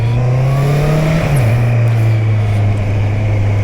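A2-licence motorcycle engine revving steadily while riding, a loud continuous low drone that dips briefly in pitch partway through, with steady wind rush and no talking.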